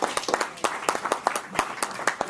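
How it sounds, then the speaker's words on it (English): A brief burst of applause, with scattered, uneven claps from a small crowd. "Let's give him a round of applause."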